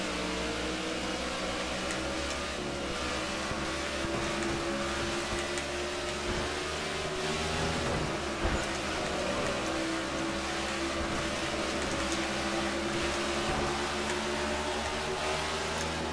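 Stock cars race at Bristol Motor Speedway in NASCAR '15, a dense continuous engine roar with a brief louder burst midway, steady throughout.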